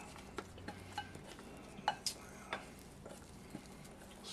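Chocolate protein dough scooped into a pan, quiet scattered taps and scrapes of a utensil against the pan at an uneven pace in a hushed room, no voices.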